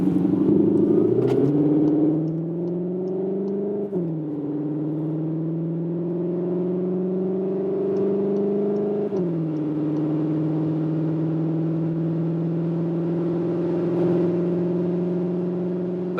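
A Cupra Leon ST plug-in hybrid accelerates hard from about 30 km/h on a wet road, its engine droning loudly and steadily rising in pitch, with brief dips at each gearshift and no talking.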